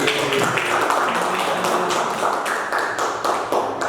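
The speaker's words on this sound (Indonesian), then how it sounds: "Kita beri aplaus untuk Bu Novi." An audience in a teachers' classroom session gives a dense burst of applause, loud and close, steady throughout, with brief sharper clap accents.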